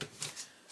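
Tarot cards being shuffled by hand, a few quick soft papery riffles and slaps up close, brief and faint.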